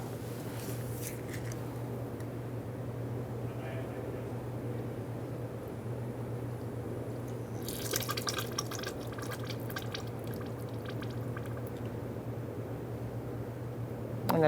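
Brake fluid siphoned from the master cylinder of a 2014-2018 Subaru Forester drips into a drip pan, a faint steady patter of small drops under a constant low hum, with a brief burst of sharper splashing partway through.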